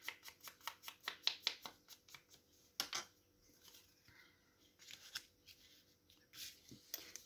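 Scissors cut through card paper for a diagonal-opening greeting card, giving a quick run of close, quiet snips followed by sparser cuts and short pauses.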